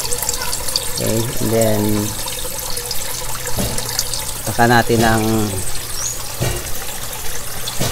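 Water is poured from a backyard goldfish tank into a container as a sample for testing. A steady, gentle trickle runs under a person talking nearby.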